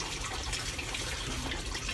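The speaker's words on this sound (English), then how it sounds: "The water been running." Tap water runs steadily into a kitchen sink during dishwashing, a close, even hiss and splash with no talking.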